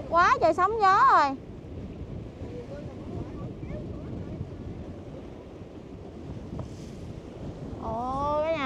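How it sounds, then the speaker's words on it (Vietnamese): Strong wind and choppy waves batter a barge on open water during the gusty monsoon season near Phú Mỹ, a steady rushing roar with wind buffeting the microphone, while people talk briefly at the start and again at the end. "Quá trời sóng gió rồi."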